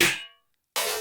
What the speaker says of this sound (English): I'm adding these glitch claps